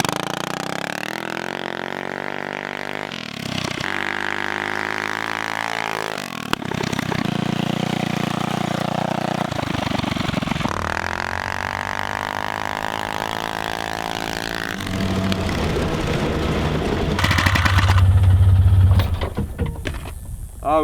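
A Mega Moto 80/105 mini bike fitted with a bolt-on rear suspension swingarm runs continuously, its small engine rising and falling in pitch as it revs and shifts, loud and close throughout.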